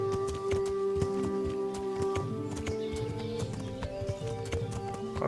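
Steady horse hoofbeats clop through water in the video game Kingdom Come: Deliverance, with a few splashy bursts, over a constant tonal musical drone and faint background effects.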